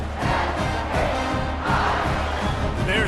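Stadium crowd noise from a college football video game simulation of Toledo versus Washington State, a steady, dense roar of cheering throughout, loud and continuous with swells near the middle and end.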